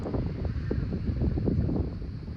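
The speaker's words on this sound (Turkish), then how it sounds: "Rüzgar esiyor, serin bir havası var." Steady wind at Butterfly Valley, Turkey, blows across the microphone as a continuous low rumble, fairly quiet and even, with no talking.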